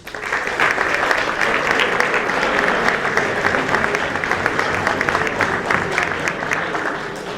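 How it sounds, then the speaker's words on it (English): Steady, dense applause fills an auditorium as a school audience claps for senior athletes at a spring sports awards ceremony, even and sustained throughout with no voices standing out. "So round of applause for our seniors."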